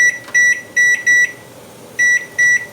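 A kitchen timer set while steeping banana peel tea gives loud, close electronic beeps in short clustered bursts separated by pauses, with no talking.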